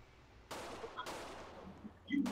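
Video game gunfire breaks out in a few sharp bursts of shots over a constant background hum, and a faint voice comes in near the end.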